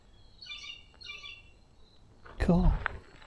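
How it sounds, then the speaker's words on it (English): Along the Montour Trail, a bird gives two quick bursts of high chirping calls close by. A voice then speaks briefly. "Yeah, see right there, hear that bird."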